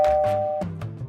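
Imilab smart video doorbell chime: a loud, clean two-tone ding-dong with sustained ringing tones, followed by a few quicker softer chime notes, heard alone with no talk.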